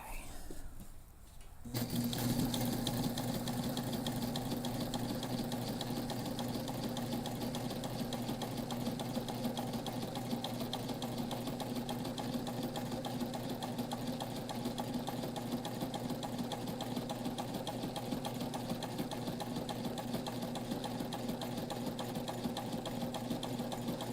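Sewing machine stitching backpack fabric, a steady fast mechanical whir with a rapid needle rhythm running continuously and close after a brief quiet start.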